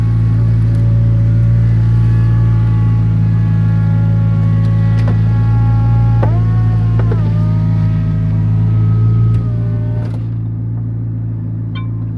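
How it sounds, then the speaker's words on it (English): A McLaren 570S Spider's convertible roof mechanism whirs and hums steadily while closing over a loud idling engine rumble, with a few clicks and thunks as the top settles into place. "you hear the sounds, and then just like that, your roof is back up"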